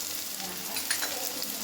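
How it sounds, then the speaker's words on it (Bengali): Two spoonfuls of chopped garlic sizzle in a hot wok over a medium flame, a continuous bright crackle with faint stirring and no voices. "কড়াইতে দেব 2 চামচ কুচনো রসুন কুচি"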